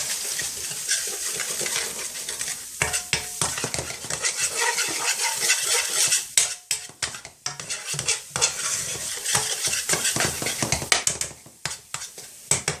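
A spoon stirs chilli powder and mixed spice powder into a simmering curry sauce in a metal pan, giving bursts of scraping and clinking over a continuous sizzle, close and busy with no voices.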